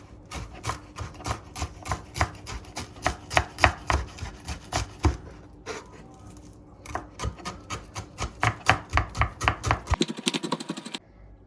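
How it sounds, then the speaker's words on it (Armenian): Fresh dill, stems included, is chopped finely for a zucchini salad, a quick steady run of knife strikes on a cutting board with a short pause midway and a brief scraping at the end. "Հիմա, սիրելիներ, կտրատում ենք սամիտ, իդեպ սամիթի կոթուները ևս կտրատում ենք"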